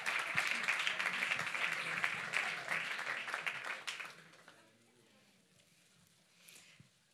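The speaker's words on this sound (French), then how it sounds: "On peut encore les applaudir" A church congregation applauds children at a Christmas service, with dense clapping for about four seconds that then fades to quiet room sound with faint movement.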